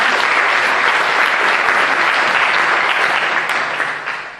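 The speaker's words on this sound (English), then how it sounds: "I will surely give them a round of applause for their work" Audience applause at the opening ceremony of a model UN conference in a hall, dense sustained clapping that holds steady and then begins to fade at the end.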